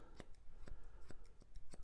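Scissors snip repeatedly at close range while trimming the coat of an English Cocker Spaniel during a grooming session, about five crisp, evenly spaced cuts with no voices.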